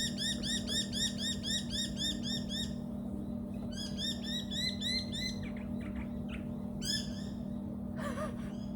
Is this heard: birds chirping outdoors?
yes